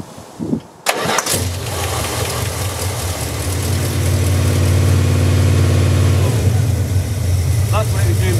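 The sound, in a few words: car engine running roughly, Daimler Dart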